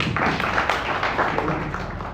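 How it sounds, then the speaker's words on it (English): Applause from an audience at a media event on ending impunity for crimes against journalists, a dense steady patter of many hands clapping throughout without a break. "Can we clap for ourselves?"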